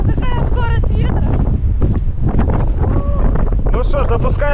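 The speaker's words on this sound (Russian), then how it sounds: "очень сейчас холодный, ледяной ветер просто" Strong, icy wind buffets the microphone on the Simeiz seafront in Crimea, a loud continuous roar with gusting rumble throughout, while voices and other sounds are partly audible underneath.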